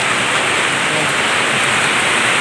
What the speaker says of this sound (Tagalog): nabutan tayo ng ulan